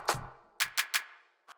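Five separate layered clap-snare hits from a techno track ring out with no other sound. Three come in quick succession after the first, and a softer one lands near the end.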